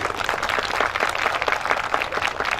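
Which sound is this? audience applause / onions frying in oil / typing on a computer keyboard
audience applause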